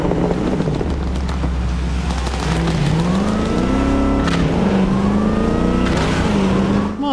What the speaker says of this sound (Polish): No, to jest najszybszy samochód z moich obecnych.